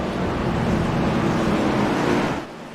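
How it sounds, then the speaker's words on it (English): Race car engines roaring together in a NASCAR-style racing video game at Charlotte, a dense continuous wall of engine and crowd noise at steady loudness before dropping off near the end. "There's a lot of noise in the background. All those cars."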